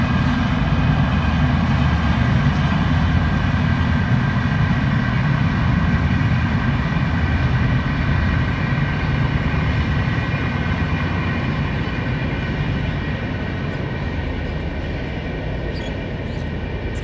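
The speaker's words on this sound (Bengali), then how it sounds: "আমাদের গার্ডেন দিয়ে ট্রেন যাচ্ছে।" A train running past a mango garden, a long continuous loud rumble of wheels and rail noise that holds steady throughout and eases slightly near the end, close by with no talk.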